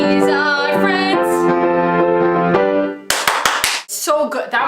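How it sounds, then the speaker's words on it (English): Four sharp, evenly spaced claps in the Friends TV theme song, loud and punchy right after a sung line, followed by a bright guitar and band music. "it was the clapping. You hear those claps, everyone joins in."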